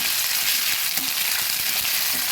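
Onion sizzling in hot oil with a spoonful of ginger paste stirred in, a steady close frying hiss with light stirring scrapes and no voices.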